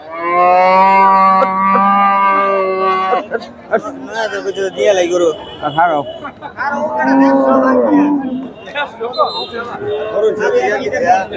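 A long, loud, close moo from cattle at a Bangladeshi cattle market selling a bull and Friesian cows, followed by lively crowd chatter and overlapping voices with fainter lowing underneath.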